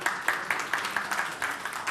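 Audience applause at the Kazan Summit 2017 investment session of a young entrepreneurs' forum as the head of IT Park is called to the stage; steady, moderately distant clapping with no voices.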